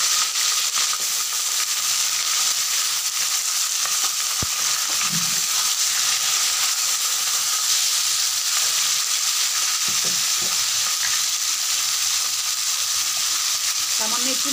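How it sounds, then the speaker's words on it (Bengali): Chicken pieces frying in hot oil for Bengali chicken kosha, a loud, continuous close sizzle and hiss that stays even throughout with a few faint clicks underneath. "এবার আমি চিকেনগুলোকেও ভেজে নেব।"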